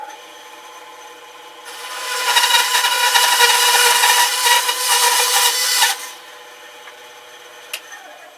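A saw cutting a piece off a wooden ventriloquist dummy figure: a steady, close rasping cut lasting about four seconds over a constant background hum, ending with a small knock.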